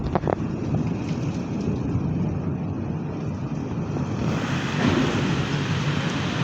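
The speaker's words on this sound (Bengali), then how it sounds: "তো জোরে বাতাস উঠছে, ঝড় শুরু হয়ে গেছে" A nor'wester (Kalbaishakhi) storm at night: strong wind roars and buffets the microphone amid rain in a continuous, heavy gust that swells louder toward the end.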